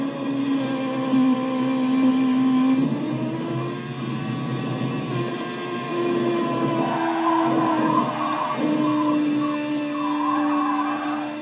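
A car drifts in the Burnout Legends racing game, a loud continuous engine drone and tire squeal with shifting pitch that rises and falls as the car slides, with no talk.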